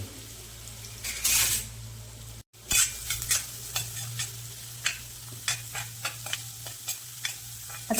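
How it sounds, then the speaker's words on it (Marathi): Finely chopped onion sautéing in a pan for boiled egg chutney, a continuous sizzle broken by frequent sharp scrapes and taps of a spoon as it is stirred, close and clear with no speech. "आता कांदा चांगला परतून घ्यायचा आहे. अगदी गुलाबी रंग येवस्तोपर्यंत इथे कांदा परतून घ्यायचा आहे."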